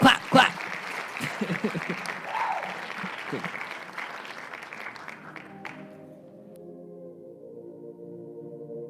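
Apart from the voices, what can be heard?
clapping on radio live stream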